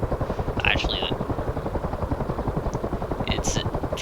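A CH-53 heavy-lift helicopter thumps through flight in the combat flight simulator DCS World, its rotor beating in a fast, steady, loud chop, with brief higher tones and noises breaking in over it.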